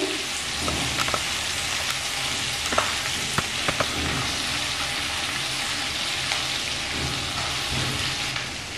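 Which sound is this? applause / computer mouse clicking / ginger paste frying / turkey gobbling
ginger paste frying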